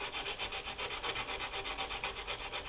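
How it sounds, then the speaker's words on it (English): Steady back-and-forth rasp of hand sanding bone with 80 grit sandpaper, rhythmic strokes about four per second, close and continuous. "since I'm hand sanding"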